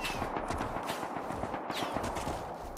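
An L9 rifle and an AK fire in the survival game Rust: a steady stream of sharp, closely spaced shots, some near and some more distant, with no break.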